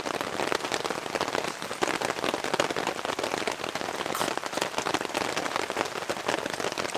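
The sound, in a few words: heavier rain falling on a campsite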